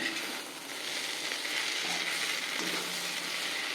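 Canteen-style brinjal curry sautés in a pan with a soft, continuous sizzle that holds steady throughout and has no talk over it.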